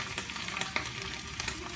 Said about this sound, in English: It's under control, low heat, just enough to get the spinach wilting.